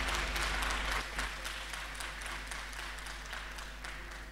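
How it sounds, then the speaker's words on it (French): Steady applause from a crowd for an organizing committee during a speech fills the whole stretch, dense and even, fading slightly toward the end. "Je vous prie d'applaudir le comité d'organisation"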